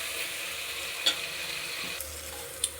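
Dry ingredients for vangibath being stirred and roasted in a dry pan, a soft steady scraping hiss with a few sharper clinks of the spoon against the pan, close and fairly quiet.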